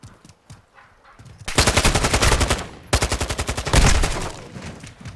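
Automatic gunfire in Call of Duty Modern Warfare II, two long, loud, rapid bursts of evenly spaced shots close by, preceded by a few scattered quieter shots.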